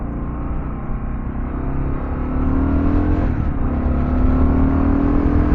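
A Kawasaki KLR650 dual-sport motorcycle on Shinko 244 tires rumbles along at low revs, its engine lugging with a steady deep drone that rises slightly in pitch, loud and close, with wind noise and no speech.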